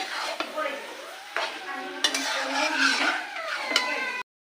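Khasi mutton (goat meat) curry is stirred in a metal pot, the spoon scraping and clanking against the sides in repeated strokes over a soft sizzle, loud and close.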